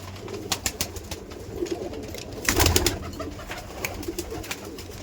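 A Kaldum pigeon coos in soft repeated low calls, close by, with a louder burst midway and no talking.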